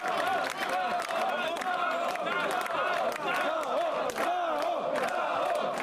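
Wrestling crowd at a BZW tag-team match roaring and chanting continuously with a dense, loud wall of voices, while a commentator talks over it.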